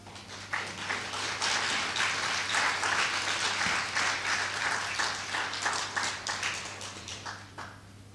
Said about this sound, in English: Let's give Professor Smith another round of applause.